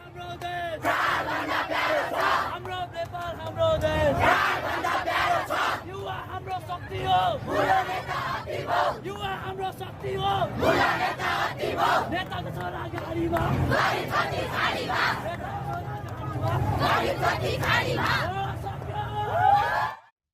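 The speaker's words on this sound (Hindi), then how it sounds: "नेपाल में युवाओं ने ऐसे नारे लगाए" A crowd of youths at a protest in Nepal shouts slogans in rhythmic unison, loud massed voices rising and falling in repeated chant phrases with crowd noise between them.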